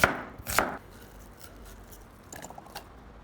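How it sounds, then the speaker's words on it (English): Two sharp knife chops through half a small onion on a cutting board near the start, followed by a few softer cuts later, close and crisp against a quiet background. "Take half of a small onion, cut it into small pieces"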